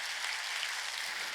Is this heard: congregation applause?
yes